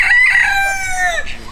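Rooster in a chicken breeding pen crowing once, a loud, close, drawn-out cock-a-doodle-doo that tails off near the end.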